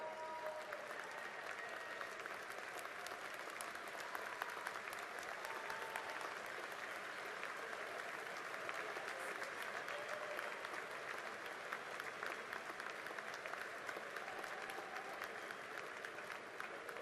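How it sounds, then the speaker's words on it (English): Sustained applause from a large commencement audience at a university graduate ceremony, honoring new doctoral graduates; steady dense clapping holds at an even level throughout with a faint crowd murmur beneath. "a round of applause for our newest doctoral recipients"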